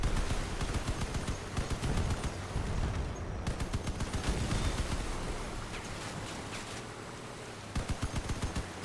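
Rapid bursts of automatic gunfire from an enemy vehicle in the armored-vehicle combat game Crossout, rattling in dense volleys with a brief lull near the middle, then short sharp bursts resuming toward the end.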